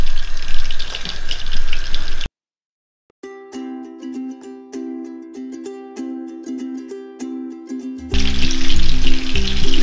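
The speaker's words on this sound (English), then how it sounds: "when the oil starts bubbling. Yeah, can you hear? It's sizzling now." Meatballs frying in hot bubbling oil, a dense crackling sizzle that cuts out briefly, then returns mixed with a steady tonal hum before the loud sizzle resumes.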